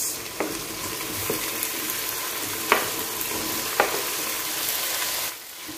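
Tomatoes for salmon sinigang sizzle steadily in a hot pot, a close, even frying hiss with a few sharp clinks of the spoon as they are stirred, ending in a brief quieter moment.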